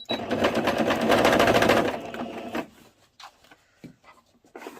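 A sewing machine stitches tablecloth fabric at a slightly longer stitch length, running loud and rapid for about two and a half seconds before stopping, followed by faint handling clicks and taps.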